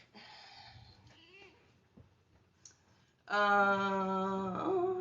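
After soft clicking and faint voices, a cat lets out one long, loud, drawn-out meow close by.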